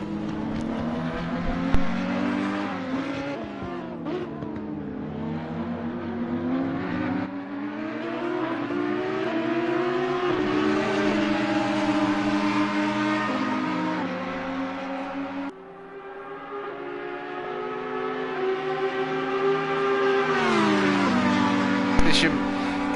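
Race cars, including a Ferrari, lapping a circuit in a racing video game, engines whining and rising through gear changes as they accelerate, with a sharp drop where one shifts or brakes, loud and close throughout.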